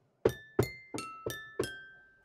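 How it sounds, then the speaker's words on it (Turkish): Five bright struck-glass tones, each a sharp ping with a fading ring, played at different pitches from MIDI pads on a Worlde Panda 200 controller, evenly spaced about a third of a second apart, clean and isolated. "Bu cam sesini farklı pedlere kopyalayarak transpoze ettim."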